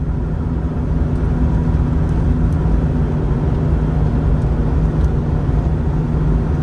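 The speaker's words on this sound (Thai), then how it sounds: "เพื่อนๆจะได้ยินเสียงเครื่องยนต์เลยนะครับ เครื่องยนต์นี่จะทำงานหนักเป็นพิเศษนะครับ" A car engine straining up a long, steep mountain road drones loudly and steadily, a constant low labouring hum with no break.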